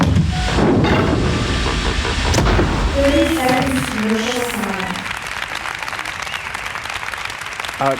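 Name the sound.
applause played in by the show's camera robot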